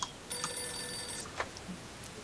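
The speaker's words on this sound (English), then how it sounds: "Ring-a-ling-a-ling-a-ling. Phone's ringing." Telephone in the video game Mafia 2 rings with a single bright electronic trill lasting about a second, fairly clear over quiet game background.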